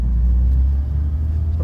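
A Fiat X1/9 engine rumbles low and steady while the driver shifts back to second gear, a close, continuous drone with a slight dip partway through.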